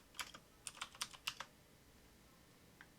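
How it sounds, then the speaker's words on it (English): A handful of computer keyboard keys pressed in quick irregular clicks, with one last faint tap after a pause; crisp, close, and alone. "I'm going to hit Control, or not Control, but Shift F to bring up the filter."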